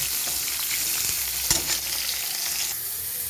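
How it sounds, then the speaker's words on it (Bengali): Radish and carrot frying in hot oil for a mixed vegetable labra dish, a steady loud sizzle with a brief stirring clatter midway and no talk. "এবারে আমি মূল্য আর গাজরটাকে ভেজে নেব"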